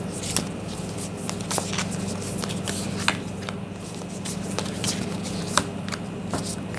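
A deck of animal oracle cards being shuffled by hand, a steady run of soft papery riffles and flicks with a few sharper snaps, close and alone without talk.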